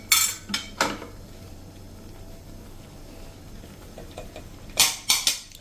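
A spoon clinks and scrapes against a metal pot as poha powder is stirred into boiling water, with sharp knocks at the start and again near the end and a low simmering bed between.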